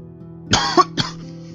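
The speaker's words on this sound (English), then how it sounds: "my apologies in advance for all the coughing that I'm going to be doing in this episode" A close, sharp double cough followed by a smaller one, quick and loud against a quiet steady hum.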